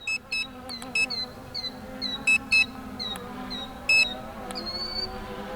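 A Hubsan Zino 2 drone controller gives short, sharp electronic beeps in its return-to-home alert, sounding in quick pairs and singles at irregular intervals, close and fairly loud, over a faint background hum.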